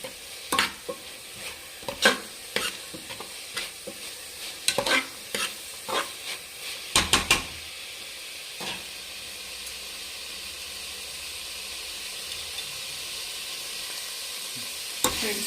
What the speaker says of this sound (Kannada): ಚೆನ್ನಾಗಿ ಫ್ರೈ ಆಗಿದೆ.